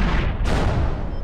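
A 50mm anti-tank gun firing in a World War II tactical video game set in the Troina campaign, a loud, sustained booming blast that fills the whole clip with continuous low rumble and gunfire noise.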